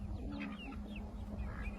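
A flock of farm chickens clucking close by as they wait beside a horse for dropped grain, soft repeated murmuring calls over a low steady background hum.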